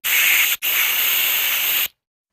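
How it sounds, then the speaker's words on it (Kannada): Pressure cooker venting steam while cooking avarekalu sambar, two loud close hissing blasts, a brief one then a longer one after a short break, ending in silence. "ಕುಕ್ಕರ್ ಮುಚ್ಚಳನ ಮುಚ್ಚಿ ಇದಕ್ಕೆ ವಿಷಲ್ ಹಾಕಿಸಿ ಇಲ್ಲಿ ಎರಡು ವಿಷಲ್ನ ಕೂಗಿಸ್ಕೋಬೇಕಾಗತ್ತೆ"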